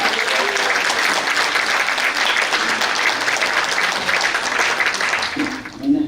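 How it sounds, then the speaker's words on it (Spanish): An audience claps and cheers as a doctor is welcomed to give a talk on anxiety, depression and the gut microbiome. The applause is loud, dense and steady throughout, then begins to fade as a voice starts near the end. "quiero que recibamos con un fuerte aplauso, como él se lo merece"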